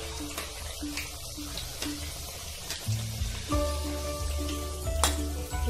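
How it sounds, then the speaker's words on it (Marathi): Methi puris deep-frying in hot oil, a steady dense sizzle and bubbling close up, with occasional light clinks of a utensil against the pan and no talking. "अगदी असं हळूवार तेल शिदरायचं आहे म्हणजे आपली पुरी पण व्यवस्थित छानशी फुगते आणि छानशी मस्त तळली गेली आहे"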